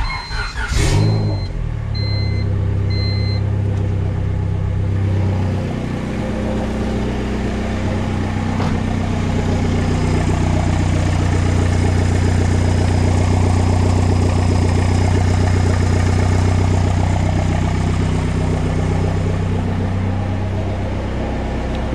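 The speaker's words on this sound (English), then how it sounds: "let's go ahead and turn this car back on." A Honda Civic engine idles steadily with a low, continuous hum and faint rattle, preceded by a brief start-up burst; no talking.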